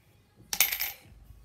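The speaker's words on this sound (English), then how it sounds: "Please deposit 5 coins." Coins clatter into a slot at a toy water stand, a short metallic jingle of several coins landing together, close and alone in the quiet.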